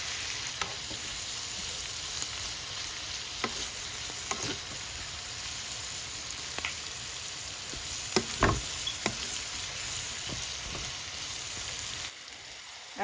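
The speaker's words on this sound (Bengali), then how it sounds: "এই পর্যায়ে আমি আগে থেকে ভেজে রাখা চিকেনগুলো দিয়ে দিব।" Pre-fried chicken frying in a pan for chicken chow mein: a steady, close sizzle runs throughout, with occasional scrapes and knocks of stirring.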